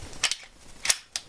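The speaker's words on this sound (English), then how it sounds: "Fire the first round, bang," Walther P99 pistol firing live rounds, heard as a few sharp, loud cracks spaced apart in a short burst, with no talk over them.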